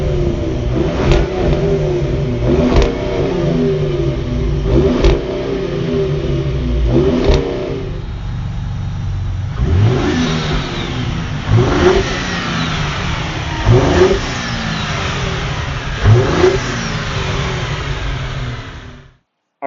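A 2018 Ford Raptor pickup's 3.5-liter twin-turbo EcoBoost V6 revs up several times from idle, each loud blip rising and falling in a regular rhythm, recorded close by with no talk.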